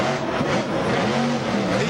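Monster Jam monster truck with a Spider-Man theme roaring loudly and continuously during a freestyle run, its engine rising and falling in pitch with no pauses.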